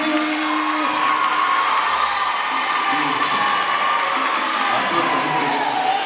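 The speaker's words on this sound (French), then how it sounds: "Est-ce qu'on peut l'applaudir?" A school debate audience cheers and whoops, a loud, dense crowd of voices with shouts rising above it, continuous for about six seconds.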